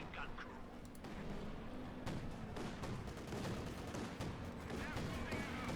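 MG-42 machine gun fire during a Company of Heroes 2 battle, dense rattling bursts and sharp cracks running continuously over a rumbling battlefield bed, with a voice talking over it.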